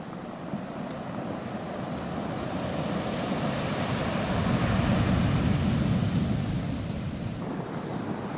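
Surf rolls onto a dark sand beach at dusk on Réunion, a steady broad wash of breaking waves mixed with wind noise on the microphone, swelling slightly midway and continuing without voices.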